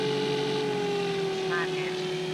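A Red Goblin 500 RC helicopter's engine runs at 2600 RPM in speed flying mode, giving a loud, steady, close whine with a strong constant tone that holds throughout.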